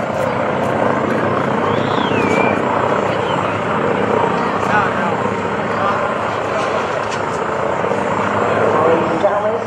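A propeller aircraft formation roars steadily overhead at an airshow, a dense, continuous engine drone that stays loud and close throughout, with voices faintly mixed in beneath it.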